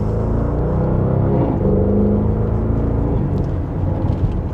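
A 2026 Porsche Cayenne GTS in Sport Plus pulls in second gear with a steady, loud engine drone and rumble from inside the cabin, holding evenly throughout and easing slightly near the end.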